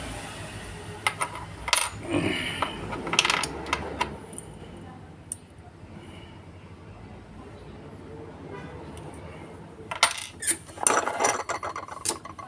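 A key duplicating machine cuts a replacement car key, sending out bursts of grinding and metallic rasping that come and go across the clip, with a quieter stretch in the middle and a louder burst near the end.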